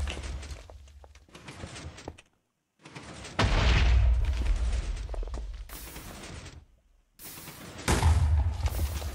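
Minecraft TNT blasts go off in several loud rumbling bursts, each booming and decaying, separated by brief silent gaps.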